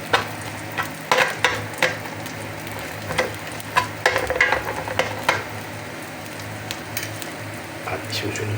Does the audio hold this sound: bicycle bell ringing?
no